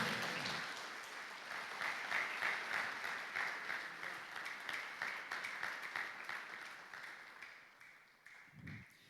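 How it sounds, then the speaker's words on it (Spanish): A church congregation applauds in a sustained, fairly loud wash of clapping that swells and then slowly fades toward the end. "¿Puedes darle un aplauso, Señor, por eso?"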